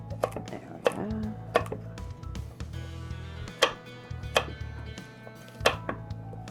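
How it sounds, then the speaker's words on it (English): A kitchen knife slicing raw carrot halves lengthwise on a cutting board for a home-cooked neck bone and rice dinner, giving a string of sharp, close chops spaced about a second apart over steady low background hum. "I cut the carrot in half, and then I cut them lengthwise."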